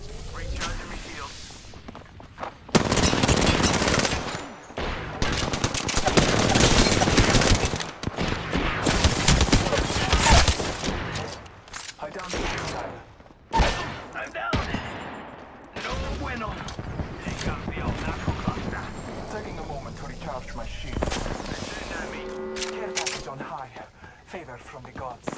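Bursts of gunfire and mechanical weapon clatter in Apex Legends during an Arena match, loud rapid volleys broken by reloading clicks and short pauses, with a voice calling out under the action.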